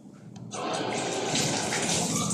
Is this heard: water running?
yes